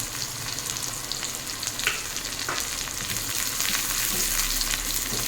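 Three halved dried red chillies with chopped onion and garlic frying in hot oil, a dense, continuous close-up sizzle with occasional stirring clicks and no speech.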